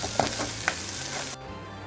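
Chopped onions sizzle steadily in a hot pan while a masala for stuffed eggplant (vaingana) cooks, a dense, close frying hiss with a couple of stirring scrapes before it cuts off abruptly.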